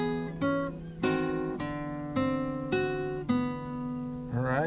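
Classical guitar plays the opening two measures of a passacaille, a series of plucked chords and bass notes with clear ringing harmonics, close and steady, with no talking.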